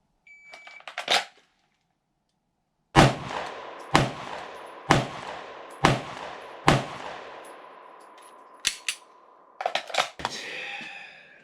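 Five evenly spaced pistol shots fired at a target ten yards away, each a sharp loud crack with a brief ring, after a short pause, followed by a few faint clicks and rattles.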